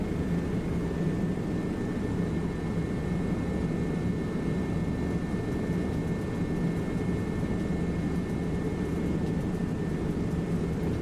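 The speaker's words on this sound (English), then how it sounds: "helicopters aren't exactly quiet machines." A helicopter flies in a video game, its engine and rotor making a steady, loud, continuous drone with a constant tone that holds unchanged throughout, with no voices over it.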